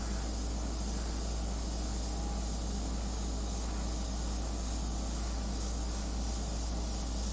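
Airbrush spraying paint onto a portrait canvas, a steady continuous hiss of air and paint mist that holds evenly throughout, fairly quiet and alone with no talk.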